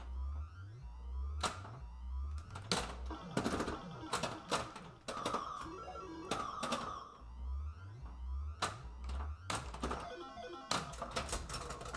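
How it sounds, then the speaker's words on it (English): A Bally Medusa pinball machine in play, with sharp repeated flipper clacks, thumps and rattling mechanical hits alongside bursts of electronic game sounds, fairly dense throughout. "There's the flipper zip"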